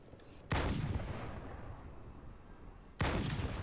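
Two loud, booming gunshots in Halo 2 Anniversary, about two and a half seconds apart, each one leaving a long rumbling tail that fills the gap.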